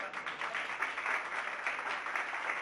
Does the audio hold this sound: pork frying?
no